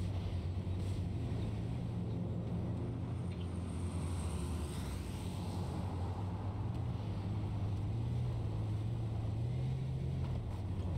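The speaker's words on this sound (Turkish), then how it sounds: "Aldık, kaçtık arabayı." A car driven in the video game H1Z1 King of the Kill gives a steady, low engine drone that runs throughout, with no talking over it.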